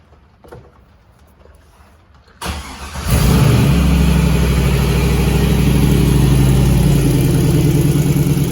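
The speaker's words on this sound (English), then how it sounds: "let me give it a quick little start. Kind of hear the rumble in it." A 5.3L LS V8 engine in a 1984 Jeep CJ7 cranks and fires up, then settles into a deep, loud, steady rumbling idle close by.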